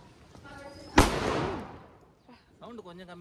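A Motu Patlu Diwali firecracker goes off at home with one sharp, loud bang that rings out and fades over about a second, followed by people talking.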